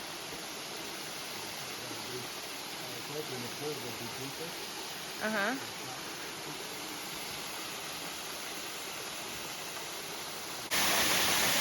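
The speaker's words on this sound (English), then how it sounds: "So it's a little waterfall. A small one, but it have more water than the ones that we've seen" A small waterfall in French Polynesia pours in a steady, broadband rush that fills the scene, with a brief voice murmuring over it partway through.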